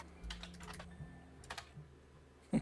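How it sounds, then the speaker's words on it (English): Fast, light clicks of typing on a computer keyboard come in short bursts with pauses between them. The typing is close and fairly quiet, with a low hum underneath and a heavier thump at the end. "Stop typing in random crap into your search engine."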